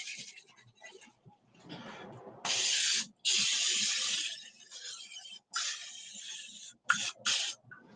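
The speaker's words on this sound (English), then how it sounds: "instead of buttering the sides, I'm actually using the spray" Cooking spray hisses onto a baking dish for baked mac and cheese in a home kitchen, several separate bursts of varying length, close and fairly loud, with short pauses and faint handling noise between them.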